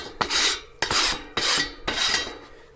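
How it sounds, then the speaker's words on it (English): A stone grill brush scrubs across grill grates in four long rasping strokes, each a harsh gritty rub with short pauses between, close and fairly quiet. "Let's clean off our grates a little bit."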